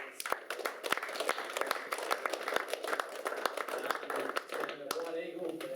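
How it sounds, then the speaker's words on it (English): An 8-ball pool championship crowd claps at a club bar, scattered individual claps standing out sharply over a rougher wash of applause, with people talking and cheering throughout. "I just want to give them a big round of applause"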